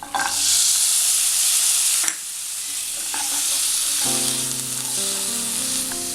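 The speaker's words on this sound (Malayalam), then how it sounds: "ഈ മസാല ഒന്ന് വഴറ്റിയെടുക്കണം. എണ്ണ തെളിയുന്ന വരെ ഒന്ന് വഴറ്റണം." Biryani masala sautés in hot oil with a loud, continuous sizzle and stirring, dipping briefly midway before carrying on steadily to the end; no speech.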